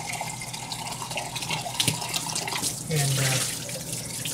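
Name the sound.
water running while rinsing out a kefir jar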